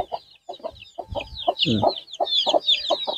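Native chickens clucking in short repeated bursts, close by on a farm, with a few overlapping calls and some higher chirping bird sounds mixed in.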